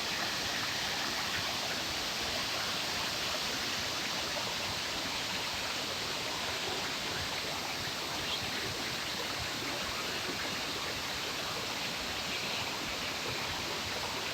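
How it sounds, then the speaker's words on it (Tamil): Heavy water pouring down Kutralam's main waterfall, a dense, steady roar that fills the whole scene without pause, no voices over it. "அருவியில் நிறைய தண்ணி கொட்டுது"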